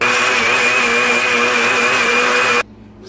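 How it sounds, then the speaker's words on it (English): A blender whirs steadily at high speed while blending okra, a loud, even motor whine with a bright tone that stops abruptly near the end, leaving quiet room sound. "I'm going to go ahead and blend the rest of the okra."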